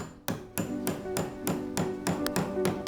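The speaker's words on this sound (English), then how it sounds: "Sometimes you'll want to get a little putty knife just to stick in to the cracks and then start to hammer that down." A putty knife hammered into the cracks of an old wooden buffet, about nine sharp metallic strikes in a fairly even rhythm, close and loud, no talking.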